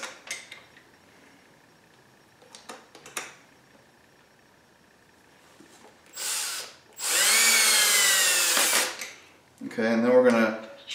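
A cordless drill whirs in a few short bursts during chuck removal, one long run ramping in pitch, between quiet clicks and handling noises nearby.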